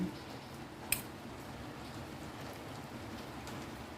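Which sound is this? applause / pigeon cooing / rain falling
rain falling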